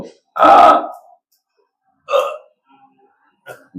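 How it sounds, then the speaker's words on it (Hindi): A person deliberately demonstrates hiccups: a loud, sharp gulping hiccup, then two shorter ones spaced over a few seconds, close to the listener with quiet between them. "हिचकी कैसे लेते हैं, लेकर दिखाते हैं।"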